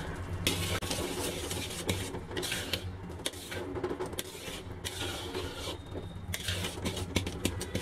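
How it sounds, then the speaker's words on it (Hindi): A spoon stirs foaming sesame and jaggery syrup in a pan over a gas flame for barfi, giving continuous scraping and bubbling with repeated sharp knocks against the pan, loud and close with no talk. "अब इसमें झाग बनने लगे हैं, तो हम इसे लगातार चलाते रहेंगे।"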